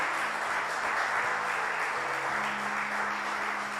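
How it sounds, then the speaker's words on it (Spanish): Congregation applauding in church for the King of Glory, a dense, steady wash of many hands clapping at once, loud and close, with a faint tonal hum underneath and no talk over it. "Dale fuerte el aplauso al Rey de Gloria."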